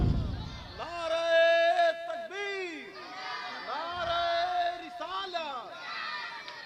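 A crowd at a religious speech chants a slogan in unison, a loud sustained call with rising and falling pitch that repeats in several swelling waves over a reverberant hall.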